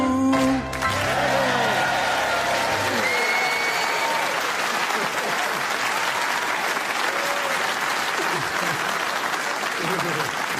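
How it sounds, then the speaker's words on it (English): A studio audience at a radio comedy panel show bursts into loud, sustained applause after a sung number, the dense clapping carrying on to the end as a piano chord fades at the start. "to those of you who clapped along"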